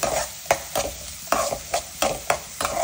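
Chopped onions and green chilies fry in hot oil while being stirred, steady sizzling broken by regular scraping strokes of a spoon roughly every half second, close and fairly loud.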